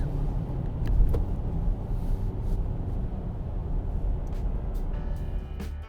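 A Jaguar E-Pace accelerates on the road to overtake, a steady low engine drone with road and wind rumble heard from inside the cabin, gradually building with no distinct revving peaks.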